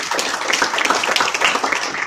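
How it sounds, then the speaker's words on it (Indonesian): Audience applause for HMI student activists from various Jakarta campuses at an Indonesian gathering, a dense, steady patter of many hands clapping throughout, fairly loud and close with no pauses. "tepuk tangan buat HMI"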